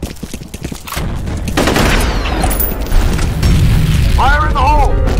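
A grenade blast in the shooter game F.E.A.R. rolls out as a loud boom amid ongoing gunfire and combat noise, with voices shouting over the action.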